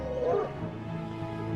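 A hunting dog on a wilderness trail lets out a single short yip early on, followed by a faint, quiet outdoor background with no further calls.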